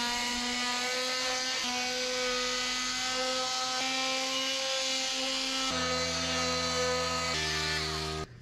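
A steady high-pitched whine of a power sander running continuously up close, shifting pitch slightly as it sands a fiberglass repair on a surfboard's snapped-off tail.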